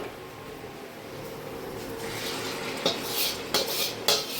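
Boiled drumstick leaves go into a pan and get stirred, with soft sizzling and a few sharp metallic scrapes and clinks of a spatula against the pan near the end.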